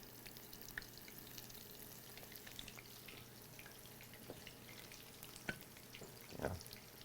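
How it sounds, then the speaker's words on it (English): Okra fries in oil in a cast-iron skillet with a quiet, steady crackle, scattered pops and small splatters, close by and faint, with a brief louder burst near the end. "you can hear it frying"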